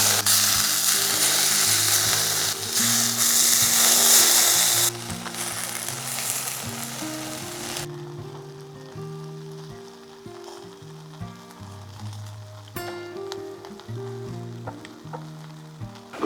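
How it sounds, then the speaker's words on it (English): Pork spare ribs sizzling on a barbecue, a dense, loud hiss that drops to a softer crackle partway through, with a background hum and occasional pops. "I'm going to get Soph to chuck these on the barbecue and we're going to start cooking the meat"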